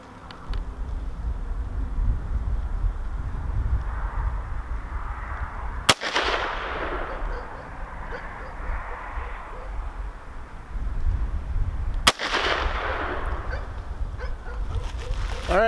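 Two sharp, loud rifle shots from a Savage A17WSM fired at a target at 50 yards outdoors, spaced about six seconds apart, each with a decaying echo over steady background noise.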